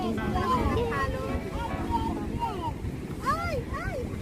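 Sea waves wash steadily at a beach during a family picnic, a broad continuous surf roar with wind buffeting the microphone, while people chatter and call out over it.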